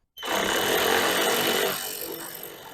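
A power tool whirs loudly and continuously close by while loosening 12 mm bolts holding an aluminium radiator on a supercharged Genesis Coupe, starting abruptly and easing slightly toward the end.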